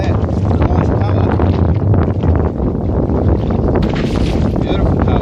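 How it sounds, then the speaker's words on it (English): Strong, steady wind buffets the microphone at an Indian Ocean shore near Perth, a continuous loud roar with broadband gusts and rumble from start to finish, while people talk during shore fishing. "It's very windy too."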